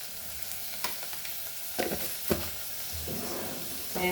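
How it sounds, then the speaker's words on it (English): Cabbage sizzles and fries in a pan for Goan foogath stir fry, a steady soft crackle with occasional stirring scrapes, close but fairly quiet and with no voices. "Fry this till it becomes soft."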